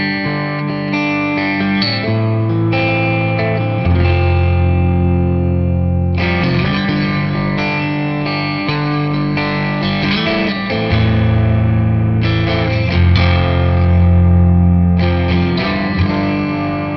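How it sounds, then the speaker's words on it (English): Electric guitar played through a Jackson Audio distortion pedal modeled on the Silvertone 1484 Twin Twelve amp, giving sustained, saturated chords with a thick, gritty tone that rings on steadily and loudly, with no talking. "This can be used as a straight-ahead distortion pedal"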